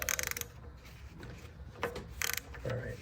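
A socket wrench with a deep 12 mm socket ratchets on the nuts of a 2013 Nissan Juke LS turbocharger, giving two quick bursts of fast clicking with quiet handling noise between them.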